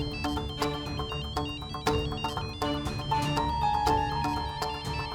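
A mobile phone ringtone plays from inside a bag, a repeating electronic melody with steady rhythmic notes that sounds slightly muffled, continuing for several seconds with no one speaking.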